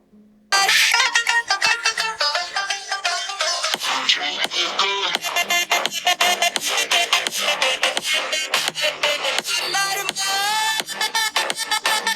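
A ringtone sample plays through the dual stereo speakers of an iQOO Neo 6 phone: a bright, busy melodic tune that starts abruptly and runs continuously for about twelve seconds.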